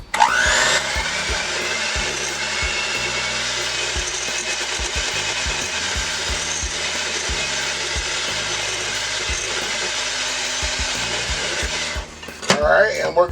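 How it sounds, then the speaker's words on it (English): A handheld electric mixer runs steadily for about twelve seconds, beating cake batter made with oil and water, a continuous loud whirring drone that cuts off near the end with some clatter. "we're just going to mix this up with a hand mixer"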